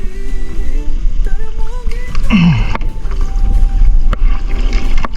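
A boat's engine, restarted after sitting unused for over a month, runs loudly and steadily with a continuous low rumble, alongside water and mechanical noise and a brief rising squeal partway through.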